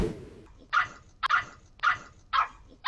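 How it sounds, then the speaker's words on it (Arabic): A dog barks while confronting a fox: five sharp, loud barks come at a fairly even pace, close by, with no other sounds between them. "لكن المفاجأة إن الكلب وقف في وش الثعلب وما استسلمش وهاجمه"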